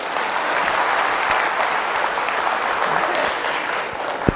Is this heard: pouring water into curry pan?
no